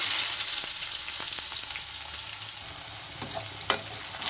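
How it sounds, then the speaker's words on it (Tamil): Chopped large onions sizzle and crackle in hot oil with popping mustard seeds and cumin while being stirred, a loud, close frying hiss with sharp pops, no voices. "எண்ணெய் காஞ்ச உடனே தேவையான அளவு கடுகு சீரகம் பொரிந்தவுடன் 2 சைஸ் பெரிய வெங்காயம் பொடியாக நறுக்கினது"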